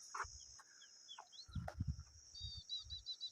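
Small birds chirp in jungle trees, with a thin high whistling call running steadily through and a few brief chirps, over soft low rustling and thumps nearby.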